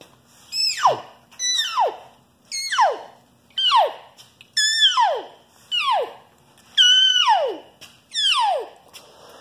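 A series of eight high, descending mew calls imitating elk cows, evenly spaced and fairly close, each sliding down in pitch with no talking.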